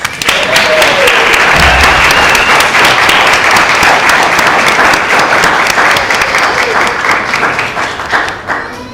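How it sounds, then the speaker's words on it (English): Loud, sustained applause from a crowd fills the room, steady clapping that tapers slightly near the end. "Please give our initiates a round of applause."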